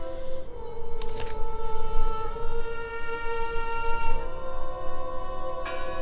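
A bell rings in the Norwegian adventure game Draugen, sustained metallic tones drifting over a low droning ambience, with a couple of brief brighter accents, no talking.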